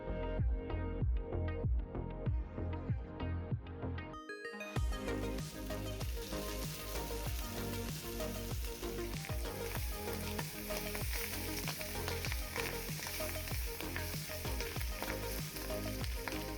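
Loud continuous sizzling and crackling of pork sisig frying on a hot sizzling plate, steady throughout after a brief gap near the start.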